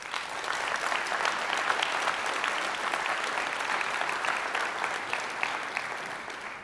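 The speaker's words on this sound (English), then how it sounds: "Please give these folks and yourselves as members of the DBT community a huge round of applause." A large conference audience at a dbt Labs and AWS community event breaks into sustained, dense applause, a steady wash of many hands clapping with no talk over it.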